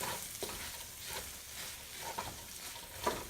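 Tomato and biryani masala fry quietly in a pan for chicken masala rice, a faint sizzle broken by gentle scraping strokes of a spoon as the mixture is stirred, with no speech.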